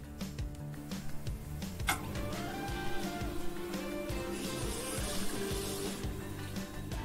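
A Tormek T8 water-cooled sharpening grinder works a chisel, a steady low motor hum carrying a continuous, even grinding whir with a brief sharp onset partway through.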